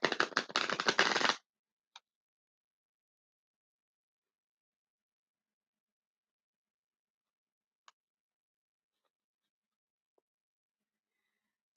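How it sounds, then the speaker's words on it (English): A deck of cards is riffle-shuffled in one quick, crisp burst lasting about a second, followed by near silence with a few faint ticks. "One more shuffle."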